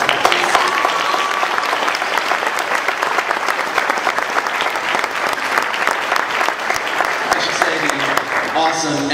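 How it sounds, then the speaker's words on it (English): A convention crowd at a Comic-Con panel claps loudly and steadily for a long stretch, with scattered cheers mixed into the dense applause. "let's all just give these guys a big round of applause."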